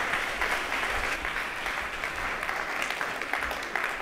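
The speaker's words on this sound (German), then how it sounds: "Applaus für Lisa." Audience applause at a marketing conference, a steady wash of clapping filling the room for the whole stretch with no voices over it.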